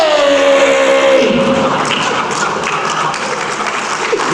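An audience at a Chamber of Commerce awards event claps together in a dense patter of applause that gradually thins out, with a sustained tone fading early on.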